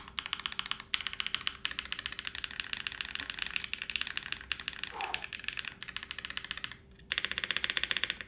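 Close, steady typing on a BakenekoGO mechanical keyboard with O-rings, dense clacky keystrokes running in bursts with short breaks and one louder flurry near the end, no voices.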